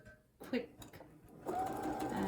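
A sewing machine runs while chain piecing fabric along a drawn diagonal line, starting with a few short bursts and then sewing steadily, quiet and close.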